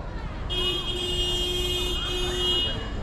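A car horn blares in one long sustained honk with a brief break near the end, loud and close, over the steady rumble of city traffic at a taxi drop-off on a busy street.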